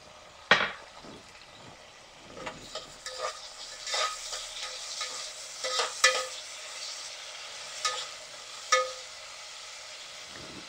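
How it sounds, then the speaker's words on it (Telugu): Tomatoes stirred into a frying pan of browned onions for pea pulao, a soft sizzle under intermittent scraping of a spoon against the pan, with occasional sharper clinks, fairly quiet and close. "ఇప్పుడు ఇందులోకి టొమాటోస్ యాడ్ చేస్తున్నా."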